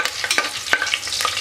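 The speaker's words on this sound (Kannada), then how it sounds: "ಇದಕ್ಕೀಗ ಉದ್ದದಾಗಿ ಹೆಚ್ಕೊಂಡಿರೋ 3 ಹಸಿಮೆಣಸಿನ್ಕಾಯಿ 1-2 ನಿಮಿಷ ಫ್ರೈ ಮಾಡ್ಕೊಳ್ಳಿ" Three long-sliced green chillies fry in hot oil for a biryani, a close crackling sizzle with quick scraping stirs of a spoon against the pan.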